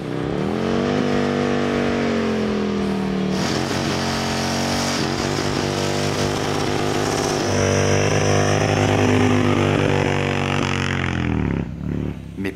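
An Avinton motorcycle engine, a custom-rooted bike with a sporty character, revs and accelerates loudly and continuously, its pitch climbing and dropping through gear changes before easing off near the end.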